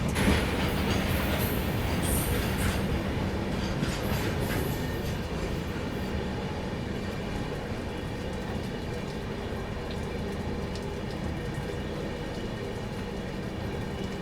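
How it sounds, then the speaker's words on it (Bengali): A passenger train running on tracks between Ringas and Ajmer in Rajasthan while rounding a curve, heard from aboard as a continuous rumbling roll with faint clicks, loudest early on and then settling into a steady drone, with no voices. "দেখো আমাদের ট্রেনটা কি সুন্দর একটা কার্ভ নিয়েছে"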